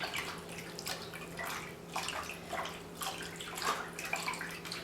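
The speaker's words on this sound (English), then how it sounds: "I'm going to give these beet greens a good swoosh" Water sloshes and swishes in a bowl as beet greens are swirled by hand to loosen dirt, coming in repeated rhythmic surges, close and fairly soft.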